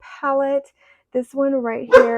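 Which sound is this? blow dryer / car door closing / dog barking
dog barking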